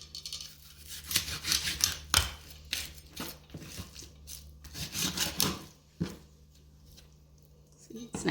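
Knife or scissors cutting excess fat and skin off a whole chicken, giving close, irregular snipping and tearing sounds heard under a person talking.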